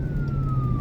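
An ambulance siren wails steadily on a road, a single sustained tone that glides slowly downward and holds loud and close over low traffic rumble, with no talking.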